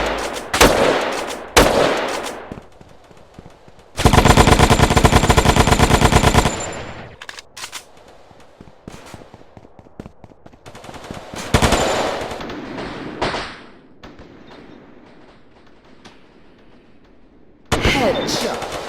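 Realistic video game gunfire: close, loud bursts of automatic machine-gun fire with single shots, a long sustained volley in the middle and more bursts near the end, with quieter gaps between.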